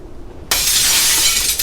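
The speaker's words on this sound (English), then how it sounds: "A branch flew through one of the windows in the cabin, throwing glass everywhere and waking up everyone." A branch smashes through a cabin window, and the glass bursts into a sudden loud shatter that sustains as a bright, crashing spray of breaking glass after a quiet start.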